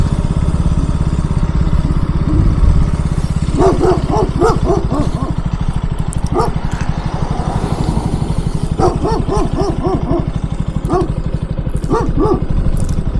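A dog barks in several quick bursts of sharp yaps, close by, over the steady idle of a KTM Duke 200 motorcycle engine on a road trip to Caleta Chigualoco.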